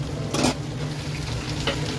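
Food frying in a pan gives a steady, close sizzle, broken by a couple of brief, louder spitting bursts, with no talking.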